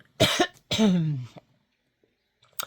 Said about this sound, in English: I need to get something to quell this cough of mine